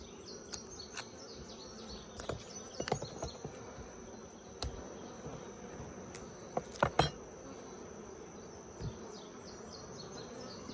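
Honey bees buzz steadily around an open Layens hive outdoors, a continuous close insect drone with occasional louder passes of individual bees near the listener.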